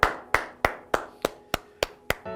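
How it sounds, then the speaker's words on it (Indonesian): Eight or nine sharp, evenly spaced claps ring out one after another at a church service, then a short, quicker flurry at the end. They are fairly quiet and have no voices over them. "Berikan tepuk tangan yang meriah buat firman Tuhan"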